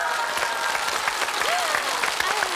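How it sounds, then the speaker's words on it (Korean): A Korean TV studio audience on a family game show breaks into continuous, fairly loud applause, many hands clapping in a dense even wash with a faint voice over it. "김동연 씨에게 오늘 진심으로 박수를 한번 드리겠습니다."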